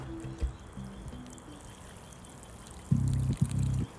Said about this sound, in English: Same as before, 1 litre from the watering can,